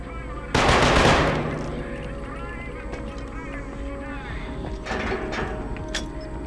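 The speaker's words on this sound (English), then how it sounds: "I'm taking heavy fire." Heavy automatic gunfire in the video game Killzone 2, a loud rapid burst up close that trails into a steady din of battle noise and scattered shots, with voices talking over it.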